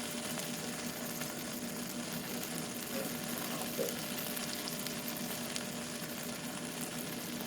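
Cajun chicken dumplings fry in a pan with a constant, even sizzle throughout, close and moderately loud, with faint small pops and no talking.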